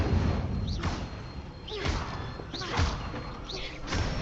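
Repeated magic spell effects from a video game, including the Incendio fire spell, land as four whooshing bursts with thuds at a steady pace, close and fairly loud, with a voice mixed in around them.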